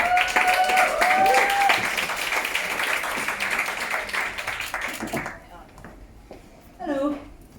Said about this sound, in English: Round of applause for Sally.